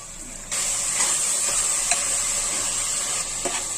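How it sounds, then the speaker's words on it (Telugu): Potatoes, peas, carrots, curry leaves and mint frying in a pan, giving a steady close sizzle with occasional stirring scrapes throughout. "బంగాళదుంపలు, బఠానీలు, క్యారెట్స్, కరివేపాకు, పుదీనా అన్ని వేసుకొని కాసేపు వేయించుకోండి."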